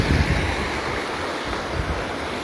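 Water rushing through an opened irrigation dam beside rice paddies, a dense, steady roar of churning flow, close and loud, with wind buffeting the microphone.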